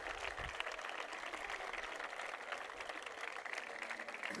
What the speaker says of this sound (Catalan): voldria, de veritat, que us féssiu vosaltres mateixos un fort aplaudiment per als pares i mares